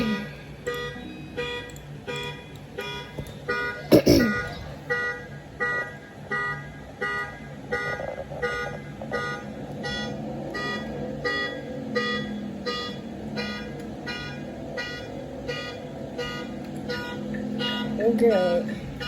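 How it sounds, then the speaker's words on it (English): A 2013 Toyota Highlander's alarm blares in a steady repeating pattern of pulses that runs for the whole stretch, with a loud burst near the start and people talking over it. "Let's go explore this car alarm that's going on for the past hour."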